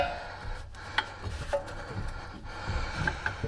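A wrench works a nut off the lower ball joint of a 2018 Chevrolet, giving close, quiet metallic rubbing and scraping with a few sharp clicks scattered through.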